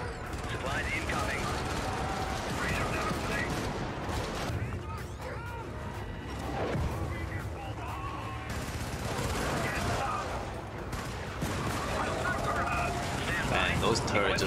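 Video game turrets fire in a loud, unbroken stream of rapid gunfire, dense and close throughout, with people talking over the shooting.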